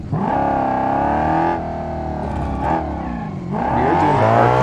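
Car engine revving and shifting while drifting in the BeamNG driving game, loud and close, with rising and falling pitch sweeps and a brief dip before surging again.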